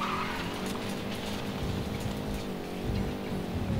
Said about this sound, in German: Oh, der Motor läuft sogar noch.